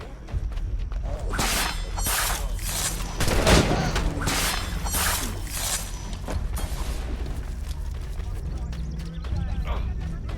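Scattered gunshots crack during a battle in the video game Assassin's Creed III, with sharp bursts repeating over a busy bed of hoofbeats and battlefield noise while voices talk.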